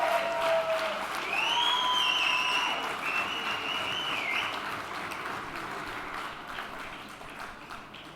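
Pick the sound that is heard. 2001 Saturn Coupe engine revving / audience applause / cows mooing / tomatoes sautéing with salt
audience applause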